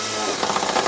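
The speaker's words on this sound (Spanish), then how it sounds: "Con la ayuda de un tornillo autorroscante colocaré la masa en la chapa del vehículo" A power tool drives a self-tapping screw into the sheet-metal body of a 2024 Toyota Yaris, giving a loud, continuous whirring drone with a rapid rhythmic chatter, close up.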